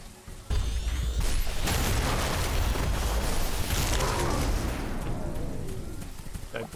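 A creature blowing up in the video game Riftbreaker, a loud sustained burst of explosive rumble and crackle that holds for several seconds after a sudden onset, with game effects layered over it.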